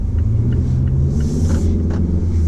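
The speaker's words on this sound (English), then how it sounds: "Let's take it for a brief drive, put it in that sport mode, and see how it does." A 2019 Mazda CX-5 Signature SUV in sport mode on hilly roads gives a steady, close engine rumble with low drone and road noise throughout, no one speaking.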